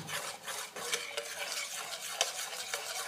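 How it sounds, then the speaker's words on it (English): Spoon stirring a hot, foamy thickened strawberry lemon curd mixture in a pot, a continuous scraping swirl with faint bubbling and occasional clinks, no voices. "And stir it until the foam is gone."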